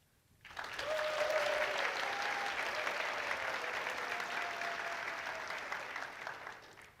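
Studio-style audience applause at a church VBS stage performance, on cue: a burst of clapping starts sharply and holds steady and full for several seconds, then tapers slightly toward the end.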